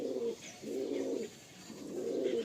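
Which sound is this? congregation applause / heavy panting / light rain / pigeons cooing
pigeons cooing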